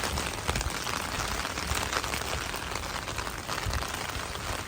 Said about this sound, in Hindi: मार्च में बारिश हो रही है